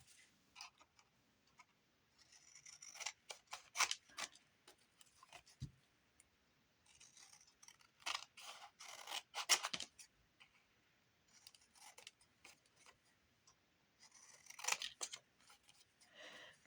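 Scissors snipping around a paper figure, clusters of quick close crisp cuts coming in bursts with quiet pauses between, no voices.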